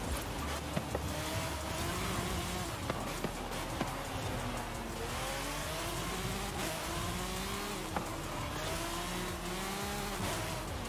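A McLaren F1 GT in Forza Horizon 5 drives through corners, its engine note rising and falling steadily with gear changes throughout, accompanied by a faint hiss of tires and wind.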